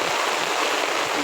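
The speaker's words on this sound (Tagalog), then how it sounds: "Tumitindi na po ang buhos ng ulan ngayong 8 o'clock ng umaga" Heavy typhoon rain pouring steadily outdoors in a farm area, a dense, loud, continuous hiss with no breaks and no talk.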